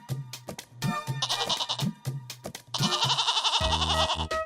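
A goat in a cartoon comedy bleats repeatedly, with loud, wavering cries in several bursts and a sharp, tonal bleat at the end, heard alone without talk.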